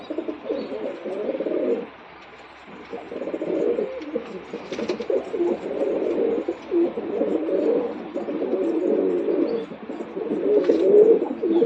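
Pigeons coo steadily and continuously, several birds overlapping in a low, throaty murmur with a brief lull early on.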